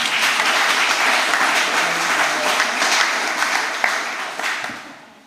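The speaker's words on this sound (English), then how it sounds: "So let's have a round of applause for the government." Audience applause fills a community center lecture hall, a dense, steady wash of clapping that holds loud for several seconds before tapering off toward the end.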